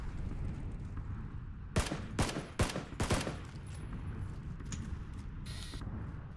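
Several loud explosions from the bombing zone in the PUBG battle royale video game, with four sharp blasts in quick succession over a steady low rumble of wind and ambient game noise.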